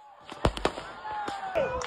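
Firecrackers set off to scare wild elephants away from a village, a few sharp pops and bangs in quick succession with faint background noise.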